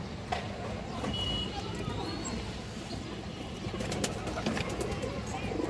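Pigeons in a loft, including a lively red-eyed Army breed bird, coo softly and fairly faintly amid low background noise.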